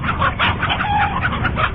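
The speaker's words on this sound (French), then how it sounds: "Voici le coq." A rooster clucks loudly and close by in quick repeated bursts throughout the short moment, with no talking over it.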